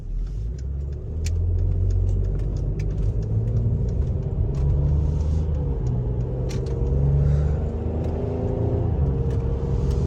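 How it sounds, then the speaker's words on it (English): Mercedes AMG GLE43 merging onto the highway, heard from inside the cabin as a loud, steady engine and road rumble that swells as the SUV accelerates, with no talk. "Now we're merging onto the highway. Might have to try it in sport mode."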